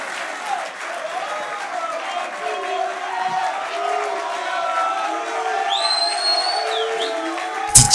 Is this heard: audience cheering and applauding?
yes